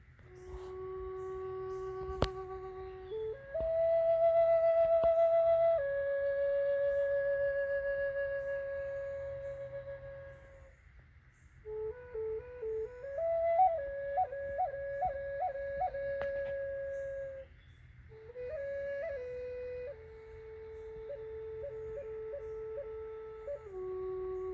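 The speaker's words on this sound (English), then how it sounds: "The Native American flute was actually first carved from the branch of a tree." A wooden Native American flute, carved from a tree branch, plays a slow, breathy melody of sustained tones with a few quick trilled ornaments and short pauses, alone and clear outdoors.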